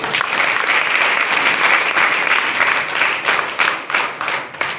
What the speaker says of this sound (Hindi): एक बार तालियां बजाएंगे।